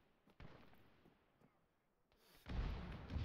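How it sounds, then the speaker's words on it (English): A grenade explodes in an online military shooter game. After a few faint muffled thumps, a deep, rumbling blast erupts and lingers loudly to the end. "Ooh, that's a grenade."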